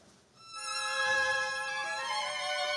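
Munich Philharmonic violins play without mutes in a bright, full sustained chord that swells in after a quiet start and holds steady and fairly loud, with rich shimmering overtones.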